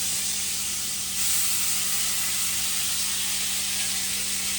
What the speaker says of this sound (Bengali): আলু ভাজছি।